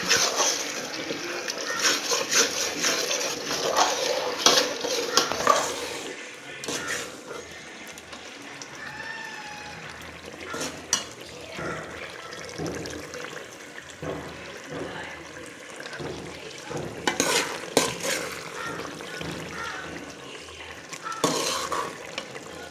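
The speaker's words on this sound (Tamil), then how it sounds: "நம்ம தேவையான அளவு தண்ணி ஊற்றிக்கலாம். நல்லா ஒரு தடவை பெரட்டி விட்டுட்டு" Water poured into a cooking pot of vegetables for a vegetable rice dish, followed by repeated scraping and stirring strokes against the pot with sizzling and bubbling, some clatter of utensils, and a voice speaking at points.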